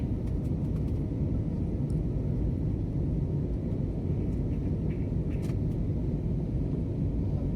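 Steady, loud cabin roar of a passenger airplane cruising between Bhubaneswar and Hyderabad, a broad low rumble with no breaks and a few faint clicks on top.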